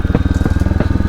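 A Royal Enfield Classic 350 thumps along in a rapid, loud single-cylinder pulse, with a couple of sharp pops cracking through the close engine beat.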